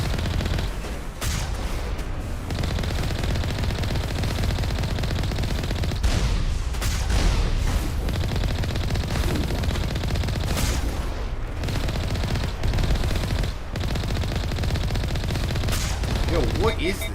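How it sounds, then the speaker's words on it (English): Rockets burst and explode repeatedly during a firefight in Mass Effect Legendary Edition, a dense, continuous barrage of blasts and gunfire with sharp cracks scattered throughout, loud and close. "Oh, a lot of rockets!"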